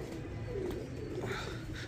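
A pigeon gives a soft low coo at a breeder's loft, brief and fairly faint against a steady background hum.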